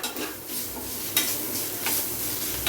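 Ground coconut roasts in hot oil in a pan, sizzling steadily while a spoon stirs and scrapes with a couple of sharper clinks against the metal, with no talk.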